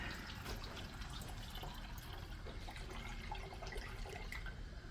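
Water runs steadily into the reservoir of a Mr. Freeze Gen 3 unit, a soft continuous trickling and splashing, faint and close, with no voices.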